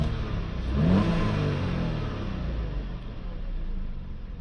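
An Audi A5 1.8 TFSI engine gives a quick rev that swells and then eases back down to a calm, steady idle, heard close with no speech.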